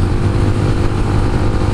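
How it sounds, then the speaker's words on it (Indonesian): A motorcycle riding fast on the highway up to Genting Highlands, its engine a loud, steady roar mixed with rushing wind, close and continuous with no talk. "Aduh, laju je ke motor dia."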